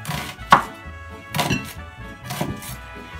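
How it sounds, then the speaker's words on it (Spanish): Knife chopping an onion on a cutting board while making guacamole: three distinct, moderately loud thunks spaced about a second apart, close by. "les gusta, les resulta más fácil cortar así la cebolla"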